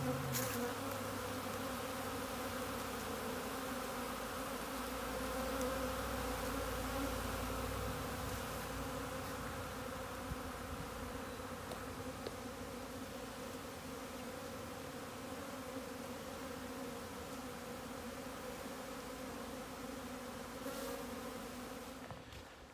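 Honeybees buzz steadily around their hives in early spring beside a snowbank, a dense, continuous droning hum from many insects that stays even and fairly close throughout, with no talking.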